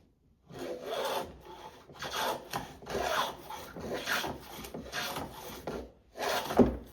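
A plough plane cuts a groove along Scots pine, a series of about six rasping wooden strokes in an even rhythm, close and fairly quiet with short pauses between passes.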